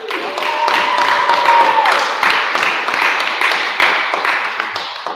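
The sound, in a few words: audience applauding the medium Colin Boswell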